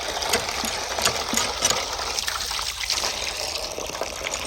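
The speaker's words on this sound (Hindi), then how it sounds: "मैं आपको ये हैंड पम्प चला के दिखाता हूँ" Clean water gushing and trickling from a hand pump at a village tap, a steady broadband splashing stream with small irregular pulses, close and continuous throughout.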